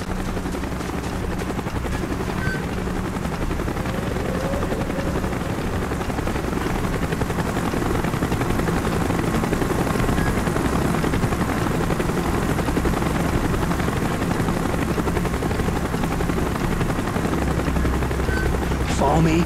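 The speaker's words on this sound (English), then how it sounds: "Chopper's inbound. Move it." A helicopter arrives in Call of Duty: Black Ops, its rotor throbbing in a loud, steady drone that fills the whole stretch, with faint bursts of gunfire mixed in.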